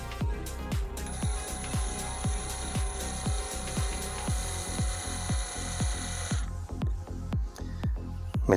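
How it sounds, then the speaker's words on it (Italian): Hychika 18V brushless cordless drill driving a screw into wood without a pilot hole: a motor whine runs under a steady series of rhythmic ratcheting clicks that continue after the whine stops, close up. "Questa è la prima vite che inseriremo, senza preforo."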